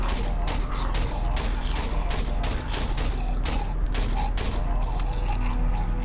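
Rapid burst-fire gunshots from a weapon in the horror video game Cry of Fear, loud sharp repeated cracks in quick regular groups with mechanical clicks between them.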